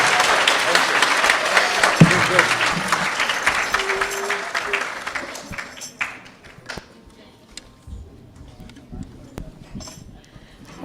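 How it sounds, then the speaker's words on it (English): Audience clapping after a recitation with actions and singing at a Gurudev Jayanthi and Mother's Day celebration, dense and sustained for about five seconds before thinning into scattered claps and quiet room noise. "Give them one more round of applause."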